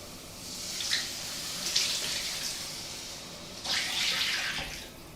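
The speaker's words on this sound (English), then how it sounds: "Now we're going to add our beef stock." Beef stock poured into a pan while making a cheese-topped cottage pie, a steady watery splashing pour in two or three bursts, fairly close and alone with no talk.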